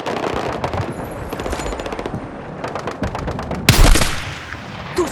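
Sustained machine gun fire in a war video game set during an attack on Gibraltar, rapid close bursts of shots with a heavy explosion-like blast near the end.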